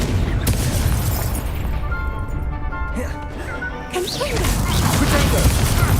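A Confringo blasting spell explodes in Hogwarts Legacy, a loud booming blast that rumbles and crashes over dense game noise before fading and flaring again.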